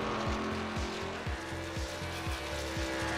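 Simulated race trucks in iRacing at Talladega produce a steady engine drone, with a rhythmic series of short chirps repeating about every half second underneath it.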